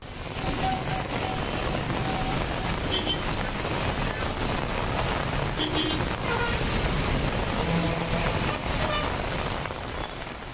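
Heavy rain pours down in Maduravoyal, Chennai, driven by strong gusting winds, making a dense, continuous roaring wash with wind buffeting the microphone throughout.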